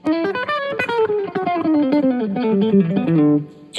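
Electric guitar played through a Greg Howe Soul Five pedal with the gain knob turned all the way up, a short run of bright, sustained distorted notes gliding downward, close and loud with no talking.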